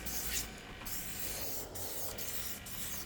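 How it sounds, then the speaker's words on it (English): Lacquer sprayed from a paint gun into the tunnel areas of a car during a second coat, a steady low airy hiss running throughout with brief breaks in the spray. "we're just blowing that paint, that lacquer, just into those tunnel areas"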